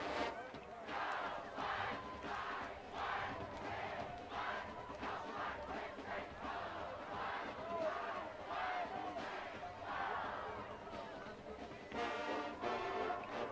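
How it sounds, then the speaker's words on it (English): Nacogdoches fans hold a pep rally on the track at a high school football game, a crowd shouting rhythmic chants and cheers in repeated bursts, moderately distant, with some talk mixed in. "Got a little pep rally happen over here on the track in front of us with the Nac fans and stuff."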